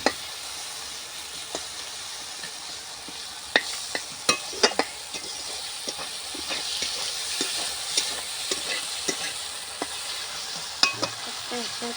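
Oil sizzles steadily in a pan as something is fried and stirred for a rohu fish curry, with scattered sharp scrapes and clicks of a utensil against the pan; no talking.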